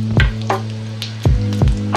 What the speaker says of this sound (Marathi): तेल आपलं तापलेलं आहे। आता आपण त्याच्यात जिरे घेतलेले ते टाकूया